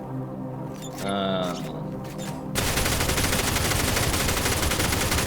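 Rapid gunfire from a two-projectile gun in the shooter game SULFUR, loud continuous bursts filling the second half after quieter game sounds.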